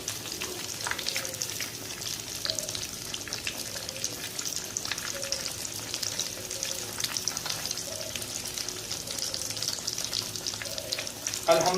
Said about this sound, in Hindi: मीडियम फ्लेम के ऊपर 5 मिनट के लिए एक साइड से आपने इनको फ्राई करना है